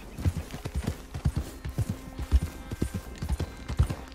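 Horse hooves clip-clop in a steady, brisk rhythm, moderately close, with no one talking, in the video game Red Dead Redemption 2.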